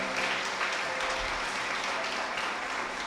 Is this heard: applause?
yes